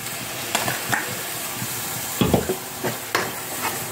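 Ground tomato paste hits a masala frying in oil, giving a steady close sizzle with a few sharp stirring scrapes and bursts of spattering as it goes in.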